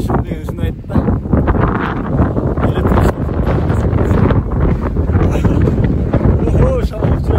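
Strong wind roars and buffets across a high mountain summit above a steep cliff, a loud, constant low rumble pounding the microphone throughout, with voices partly buried beneath it.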